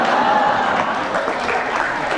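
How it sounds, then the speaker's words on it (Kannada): A studio audience on an Indian talk show claps steadily, a dense, even burst of applause that fills the whole moment at close range. "ನೀವು ಇಲ್ಲಿ ತಮಾಷೆಗೆ ಚಪ್ಪಾಳೆ ಹೊಡಿತಾ ಇದ್ದೀರಾ"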